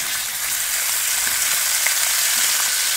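Meat searing in a little oil on a cast-iron grill base, a steady close, loud sizzle and crackle filling the whole clip without a break.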